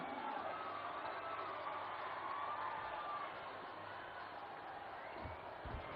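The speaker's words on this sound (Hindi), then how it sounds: "एक बार जोरदार तालियां माननीय प्रधानमंत्री जी के लिए." A large crowd at a public rally applauds and cheers for India's Prime Minister, a broad continuous roar of clapping heard somewhat distantly, fading slightly toward the end.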